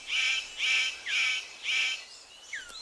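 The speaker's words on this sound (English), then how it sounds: "The superb bird of paradise calls to attract a female." Superb bird of paradise giving a series of four loud, rhythmic, harsh buzzing calls, each about half a second long, followed by shorter rising whistled notes, close by in a quiet forest setting.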